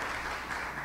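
Audience applause at a municipal ceremony in honor of a woman, a steady dense patter of many hands clapping that fills the whole short stretch at moderate level.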